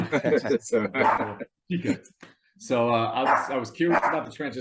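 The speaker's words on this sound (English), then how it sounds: "Oh, sorry, that's my dog." A pet dog barks and yips in the background during an interview, with short bursts of barking mixed under and between continuous conversation.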